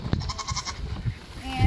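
A goat in a farm field gives a brief, faint bleat amid low rustling and handling noise close by.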